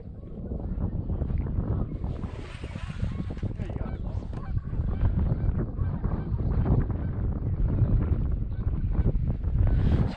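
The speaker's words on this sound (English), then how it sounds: "This wind is kind of warm." Strong wind buffets the microphone beside Potholes Reservoir during a windstorm while bass fishing, making a loud, continuous low rumble that rises and falls without a break for the whole stretch.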